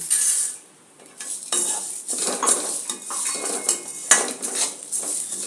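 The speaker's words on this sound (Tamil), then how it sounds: "இதை நல்லா சவக்க வறுத்து எடுத்துக்கலாம்" Chana dal dry-roasted with urad dal in a pan, stirred with a metal spatula: close, continuous rattling scrapes and light clinks, one brief lull near the start, no voices.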